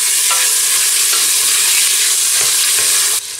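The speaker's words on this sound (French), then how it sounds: "Et je fais colorer ma viande, en fait, mes morceaux de veau dedans." Small pieces of veal sizzle and brown in butter in a pan. A loud, continuous frying hiss runs throughout, with faint scrapes of stirring and a slight drop near the end.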